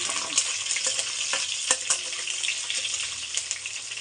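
Garlic sizzles and fries steadily in a pan for vegetable noodles, a continuous bright crackle with occasional scraping stirs, close and without any talking.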